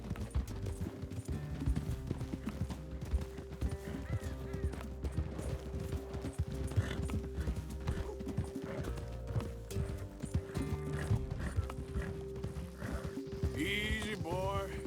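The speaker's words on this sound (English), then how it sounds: "encourage Bo to ride faster by pushing your horse to match his speed" Horse hooves galloping in the video game Red Dead Redemption 2, a steady rapid clip-clop running throughout beneath game music and spoken dialogue, with a short whinny-like sound near the end.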